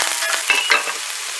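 Shallots sizzling in a hot pan over medium-high heat, with a bright crackling fry and a couple of quick stirring scrapes, close and loud for a brief moment.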